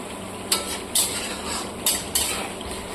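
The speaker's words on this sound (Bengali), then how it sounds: "এবার মশলাটাকে সুন্দর করে কষিয়ে নেব" A spoon scrapes and stirs a spice paste frying in a pan for a Bengali poppy-seed cauliflower roast, with four distinct metallic scrapes over a soft, continuous sizzle.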